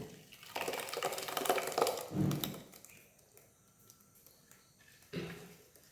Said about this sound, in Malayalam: ഇതിലേക്ക് ഉഴുന്ന് ചേർക്കാം അരച്ചത് ഇതിലേക്ക് ഒഴിക്കാം